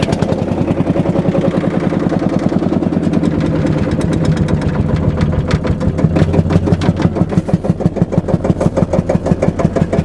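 An old engine, fired after hand-cranking with a few shots of fuel, runs at a steady, rapid chug, loud and close, its even pulsing rhythm firming up slightly toward the end with no talk over it.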